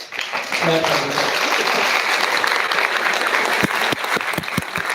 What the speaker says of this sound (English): stand up and big clap for him